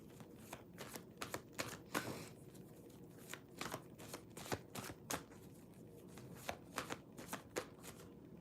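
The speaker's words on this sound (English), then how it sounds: "cut the cards" Tarot cards being cut and shuffled by hand: a steady run of crisp riffling snaps and slaps for several seconds, fairly close and moderately quiet, with no voices.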